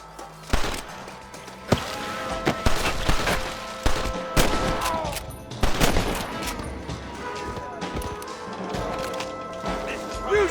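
Repeated gunshots and bursts of rapid gunfire in the Western video game Red Dead Redemption, loud and close, scattered through the stretch with shouted voices and talk over the battle.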